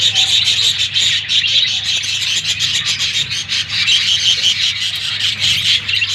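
Wild-type budgies in a breeding cage chirp and chatter constantly, a dense layer of bright, overlapping tweets and squeaky calls from several birds close by, with a low hum underneath.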